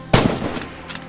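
A scoped Kar98 bolt-action sniper rifle firing in the WWII shooter Red Orchestra: one sharp, loud close report with a rolling echo tail, followed by softer distant cracks.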